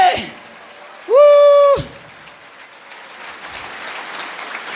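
A church congregation claps during a worship service, a steady rain-like applause that follows a loud, sustained shouted voice and continues to the end.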